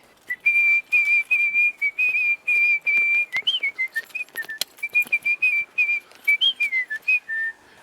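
A person whistles a Bermuda Gombey fife tune alone, a bright clear melody in short repeated phrases with quick gaps, mostly steady notes with a few little slides up and down, close and moderately loud.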